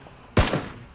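A single sharp gunshot in the battle royale game PUBG, a sudden loud crack with a short decaying tail amid quiet background.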